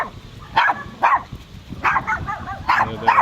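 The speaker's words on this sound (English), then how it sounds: "They're the neighbor's dogs." The neighbor's dogs bark in a yard near a fence, a run of loud, close barks in quick bursts with small yips mixed in.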